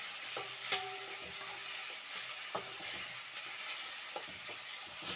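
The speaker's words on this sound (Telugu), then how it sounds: "టమోటాలు, ఉల్లిగడ్డలు వేసి ఇది ఫ్రై చేయాలి." Tomatoes and onions fry in a pan with a faint, steady sizzle, broken by several light scraping knocks from stirring.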